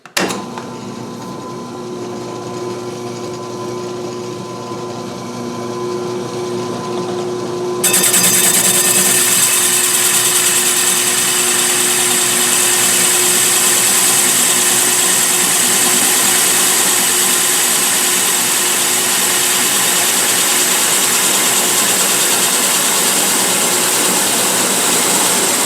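Power drill driving a 4.5 inch hole saw through wood, a steady loud whine that runs continuously and grows harsher and brighter partway through as the cut bites in, no voices.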